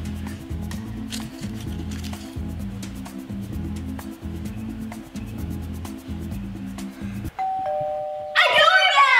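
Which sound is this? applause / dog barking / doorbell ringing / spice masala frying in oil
doorbell ringing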